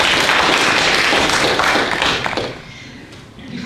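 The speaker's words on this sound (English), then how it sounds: "Give yourselves a round of applause." An audience at an annual meeting claps in a full, close burst of applause that holds for a couple of seconds and then quickly thins out and fades.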